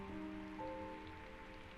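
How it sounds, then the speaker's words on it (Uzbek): Rain falls steadily in a soft, continuous patter, quiet and distant, with a faint tonal hum underneath and no voices. "Yomg'ir shavarani."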